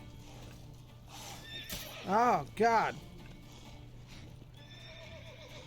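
Horse neighing twice in loud, closely spaced whinnies, with faint hoofbeats, in the video game The Witcher; someone speaks briefly before the neighs.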